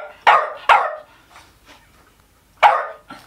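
A dog barks sharply twice in quick succession, pauses, then gives one more loud bark close by, with faint whimpers between.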